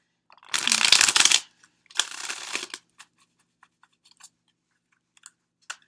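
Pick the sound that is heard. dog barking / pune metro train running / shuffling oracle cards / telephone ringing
shuffling oracle cards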